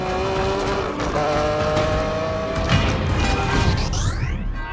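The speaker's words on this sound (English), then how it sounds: "The craziest car chase in Transformers history explodes into a fight on the highway" A frantic highway car chase and robot battle from Transformers: Dark of the Moon roars continuously, with engines, screeching tires, crashes and metallic clangs packed into a loud, chaotic film soundtrack.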